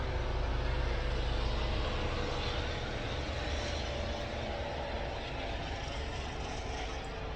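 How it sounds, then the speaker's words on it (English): A news helicopter flying overhead: a steady, loud mechanical drone with a broad low rumble and airy whir, constant throughout, with no talking. "it's just a news helicopter."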